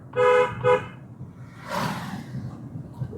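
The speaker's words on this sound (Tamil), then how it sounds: "ஹாரன் ஒரு முறை" Two short car horn toots in quick succession, loud and close, followed by a brief whoosh of passing traffic.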